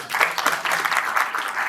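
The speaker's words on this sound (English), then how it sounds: "Please give a round of applause." Applause at an achievement-week banquet, a loud, dense burst of many hands clapping together nearby, filling the whole short stretch without a break.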